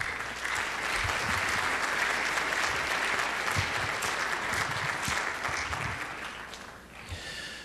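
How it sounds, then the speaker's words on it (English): Audience applause fills a school Hall of Fame induction ceremony for Hatboro-Horsham High School, a dense, steady roar of many hands clapping at once that holds for several seconds, then thins slightly near the end. "Please join me in a round of applause for those members who gave up their time"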